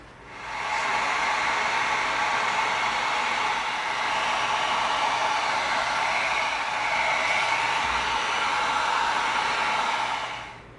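Hot air blowing over an EVA foam surface, likely from a heat gun or hair dryer, a steady loud whooshing hiss that starts, holds for about ten seconds and cuts off, with no talking.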